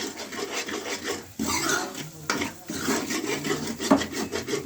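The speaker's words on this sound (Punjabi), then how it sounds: "ਹੁਣ ਅਸੀਂ ਚੰਗੀ ਤਰ੍ਹਾਂ ਇਹਨੂੰ ਭੁੰਨ ਲਾਂਗੇ ਦੇਖੋ ਚੰਗੀ ਤਰ੍ਹਾਂ ਸਾਰਾ ਮਿਕਸ ਕਰ ਲੈਣਾ ਮਸਾਲਾ" A spoon scrapes and stirs masala roasting in a pan for rajma, making steady rasping, rubbing strokes with occasional clinks against the metal, close up and uninterrupted by speech.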